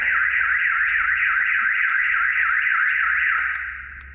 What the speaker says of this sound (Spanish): presiono aquí el botón, activo la alarma